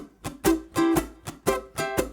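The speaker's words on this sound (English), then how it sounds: "But I'm going to play the chords at different tonalities," Strummed reggae ukulele high barre chords in quick, rhythmic bursts, each strum bright and close, shifting between several chord shapes.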